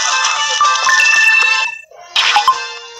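A phone ringtone plays loudly in bright repeating melodic bursts, cutting off briefly near the middle before starting up again.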